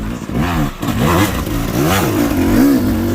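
Enduro motorcycle clawing up a steep, dry rocky climb on an enduro track, engine revving up and down in repeated surges, loud and close with clattering over the rocks.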